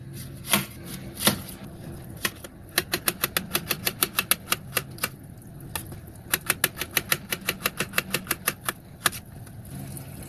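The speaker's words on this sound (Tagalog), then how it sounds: "Sibuyas, hiwa tayo." Knife slicing onions on a cutting board, close crisp chops in quick irregular runs of taps with short pauses between, fairly loud over a faint background hum, no talk.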